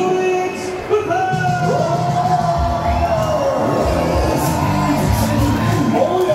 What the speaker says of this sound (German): ja, und wir geben einen großen Applaus für Lorenz